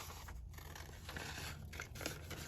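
Scissors snip through paper while trimming a piece for a glue book collage, a steady run of close crisp cuts and faint rustling over a constant low background hum.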